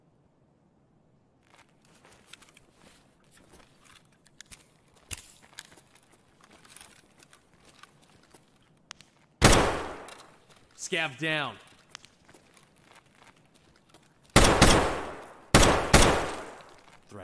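Sporadic shots in Escape from Tarkov at Shoreline Resort: faint distant pops scattered throughout, then a few loud close bursts of gunfire, with people talking over the quieter stretches.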